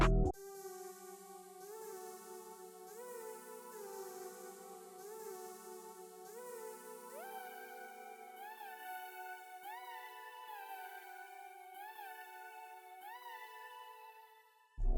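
Dry synth glide for a new-planet style beat, with no effects: a repeating pattern of notes that slide upward into one another, steady and moderately quiet, played alone with no voices.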